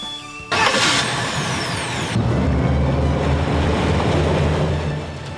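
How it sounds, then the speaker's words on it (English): Twin MerCruiser 4.3-liter V6 stern drive engines on a Sea Ray 290 Sundancer mid-cabin boat rumble steadily up close, a smooth, low continuous drone that swells as the throttle rises, with wash and water noise mixed in. "I'm really impressed with how quiet and smooth these engines are."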